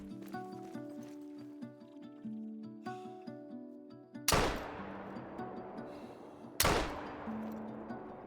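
Two sharp, loud rifle shots from a .470 Magnum ring out a couple of seconds apart in the hunting game Call of the Wild, each with a short decay, over a steady musical game ambience.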